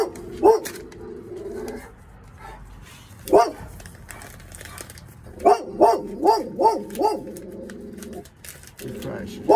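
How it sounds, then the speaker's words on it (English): Several dogs barking in short bursts, single barks and a rapid run of yaps, fairly close, with a person talking between them. "They're still barking at me."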